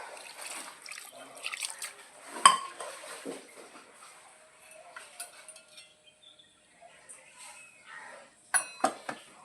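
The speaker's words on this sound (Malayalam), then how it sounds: "കുറച്ച് വെള്ളം കൂടി ഉണ്ട് ഒഴിച്ചു കൊടുക്കാം" Water poured into a cooking pot seasoned with pepper powder, salt and coriander leaves for a home-cooked curry; a faint trickle comes through among soft clinks of pots and utensils, with no talking.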